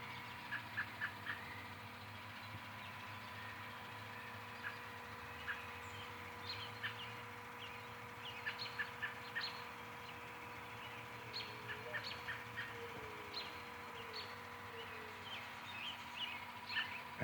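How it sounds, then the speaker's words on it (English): Springtime outdoor bird chorus with a dove or partridge calling among many faint, repeated chirps over a steady low hum, no one speaking. "That's a partridge or a dove."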